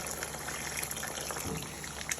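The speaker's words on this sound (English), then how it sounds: "I'm gonna add in some more water" Water pours into a pot of lamb curry as it cooks, a steady broadband splashing and gushing that runs continuously for about two seconds, close and moderately loud.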